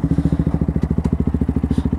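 Motorcycle engine heard up close while riding, a loud rapid pulsing thump that repeats evenly at a steady pace throughout the brief stretch.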